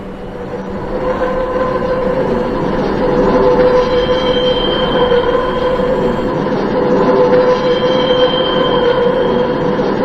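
A BVG Class D train running on the Lisbon Metro Blue Line, heard from aboard: a loud, continuous rumble of wheels and motors with steady squealing tones, no voices.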